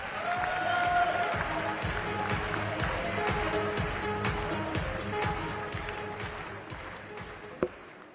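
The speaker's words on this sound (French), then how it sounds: "Je vous demande d'applaudir Madame Valérie Létard." A large crowd claps steadily at a French political rally in Porte de Versailles, with sustained applause and some cheering, dense and even. It fades slightly toward the end and is cut off by a sharp knock.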